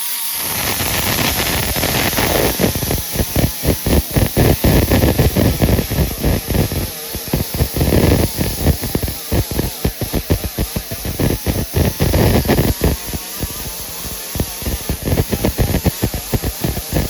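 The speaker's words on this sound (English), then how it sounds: "So I welded it one more time." Welding a steel patch panel onto the front fender of a 1964 Chevy Impala, a loud continuous crackling hiss broken by dense, irregular sputtering pops, close and without talk.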